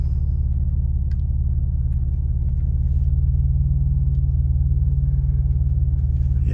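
A Mercedes-Benz W124 300E sedan with a 2.6 engine cruising on a road, heard from inside as a steady low rumble of engine and road noise, with no talking.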